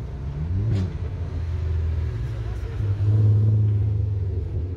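A Volkswagen Golf R32 engine rumbles low and steady nearby, swelling briefly louder as it revs, with people talking over it.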